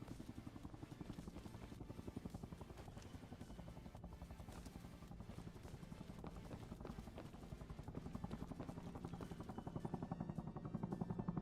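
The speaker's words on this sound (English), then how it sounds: "I hear that helo going over again." A helicopter passes overhead in the Arma Reforger survival game, a steady low rotor chop running continuously and growing slightly louder toward the end, mixed with other game sounds.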